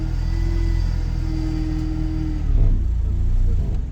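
Engine of a BMW E31 850i, abandoned and sitting for 15 years, running while the car reverses: a steady low hum with a held tone, then a brief heavier surge near the end, close and without talk.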